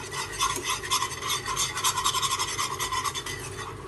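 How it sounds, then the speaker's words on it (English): A spoon scrapes rhythmically through white sauce macaroni seasoned with oregano in a pan over a low flame, making quick repeated rasping strokes at close range with no talking. "Let's stir it well."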